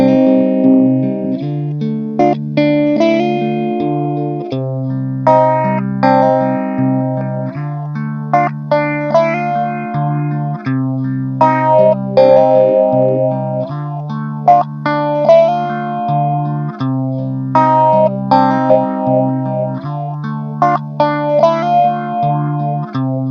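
Guitar played through a 17 01 analog phaser pedal with all knobs at noon, heard alone as steady chords and melodic lines with a continuous sweeping phase shimmer.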